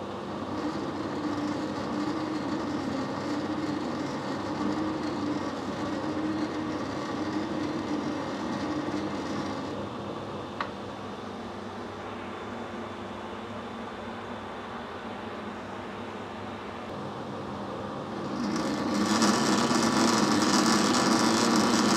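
A lathe cuts a 1.5 mm thread on a brass gland nut, giving a steady continuous machine hum and whir throughout, with a brief click near the middle and the noise growing louder and brighter toward the end.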